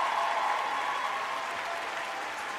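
A stand-up comedy crowd in Atlanta applauds and cheers for itself, a steady wash of clapping and whooping from a full room that holds at an even level with no break.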